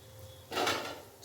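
A short metallic clack and scrape of a lid lifted off a cooking pot of vermicelli polao, a single close sound standing alone against quiet kitchen background.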